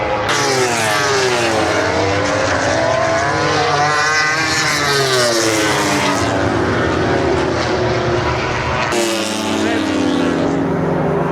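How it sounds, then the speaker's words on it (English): Racing motorcycles at a MotoGP race roar past at full speed on the circuit, a loud continuous engine howl rising and falling in pitch as machines sweep by close, with a sharp new pass near the end. "That's the last full speed GP bikes we see this year."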